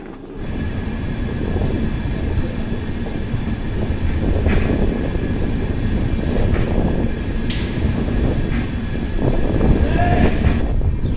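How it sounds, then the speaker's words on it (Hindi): The Nautanwa Durg Express pulls out of Anuppur station in Madhya Pradesh with a steady, loud rumble of rolling coaches, light wheel clicks and faint squeals, continuous throughout. "सुबह का बेहतरीन नज़ारा और आप देख रहे हैं ट्रेन का डिपार्चर अनूपपुर स्टेशन से।"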